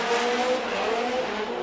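Nexen Tires Toyota GT86 drift car at Formula Drift qualifying in Long Beach, a loud sustained engine howl and tire squeal sweeping past during a drift run.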